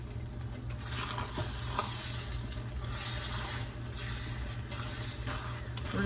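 Eggs being stirred in a pan for breakfast burritos, a steady soft sizzle with continuous scraping and stirring throughout, close and even, with no talking.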